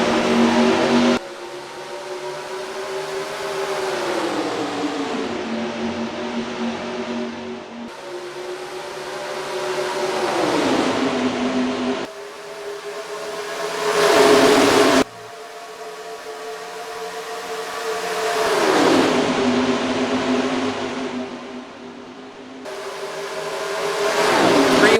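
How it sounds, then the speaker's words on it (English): Stock cars roar away at the green flag start of the Pepsi 600 at Charlotte in the NR2003 racing game, engines revving and rising in pitch in repeated surges as the pack accelerates, loud and continuous. "He steps on the gas, and we're green flag racing at Charlotte for the Pepsi 600."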